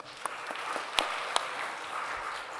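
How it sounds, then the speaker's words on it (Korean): A church congregation claps briefly at a Sunday service, a short scattered burst of applause with a few sharper claps that soon fades. "저기 우리 박수 한번 해줘."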